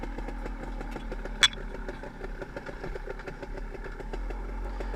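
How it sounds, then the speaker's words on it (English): A Husqvarna TE 300 dirt bike idles on an off-highway trail at Foresthill, giving a steady, even low rumble with regular pulsing and one brief sharp click partway through. "Nick is up there on a Husky, I think it's a TE 300"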